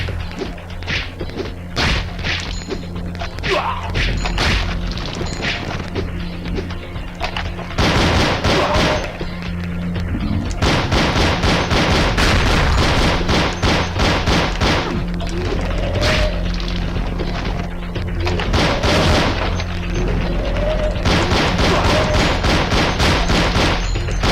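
Rapid gunfire in the zombie shooter Zombie Age 2, dense bursts of shots and thumps coming in waves, loud and continuous with short gaps.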